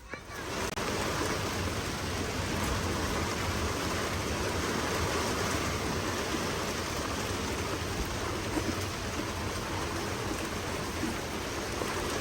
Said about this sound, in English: We are finally getting rain.